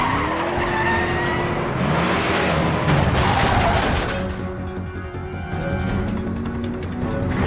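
A car tears through a Resident Evil 6 level with tires squealing and skidding under a loud, steady engine roar, the rough scraping texture continuing throughout.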